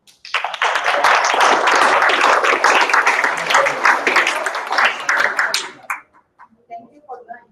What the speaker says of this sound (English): And an applause for yourselves, my fellow members